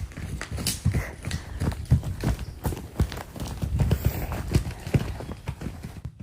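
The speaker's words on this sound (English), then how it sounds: "The horses are going wild." Horse hooves clip-clop in quick, uneven rhythm as several horses run out onto a field, moderately close with a soft outdoor background and no talking.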